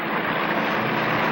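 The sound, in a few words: airplane engine overhead, aircraft in difficulty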